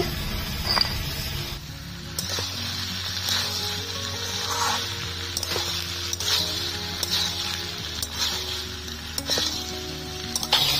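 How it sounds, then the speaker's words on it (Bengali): Mixed vegetables frying in a pan for a vegetarian chhokka, an even sizzle with intermittent stirring and scraping clatter of a spatula, under a low steady hum. "সব সবজিগুলো ভালো করে ভাজা হয়ে গেছে"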